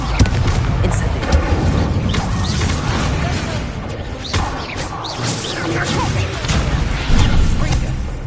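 Incendio fire spell cast repeatedly in the video game Hogwarts Legacy, producing bursts of whooshing, crackling fire blasts and impacts over a busy combat soundscape of clanks and thuds.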